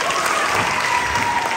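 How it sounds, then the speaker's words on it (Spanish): A room full of young people at a church youth conference breaks into loud, close applause, a thick continuous wash of clapping with a few faint voices mixed in. "Un aplauso a esta muchacha."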